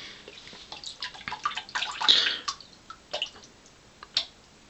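Water trickles and drips onto a badger-hair shaving brush, a close series of irregular splashes and patters with a brief louder pour in the middle, with no voice.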